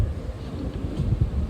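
Wind gusts buffet the microphone in low, uneven rumbles, a rough blustery noise close by on a farm site, with no voices heard.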